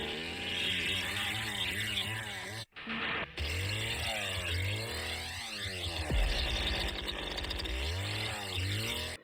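A revving chainsaw from the Texas Chainsaw video game snarls loudly and continuously, rising and falling in pitch through repeated throttle surges with a brief cutout midway.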